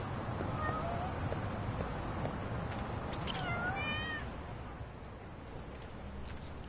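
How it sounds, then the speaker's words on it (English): Cat meowing in the video game Lost Judgment: a couple of short, fairly close meows rising over a soft game ambience, with a faint voice in the background. "Cats."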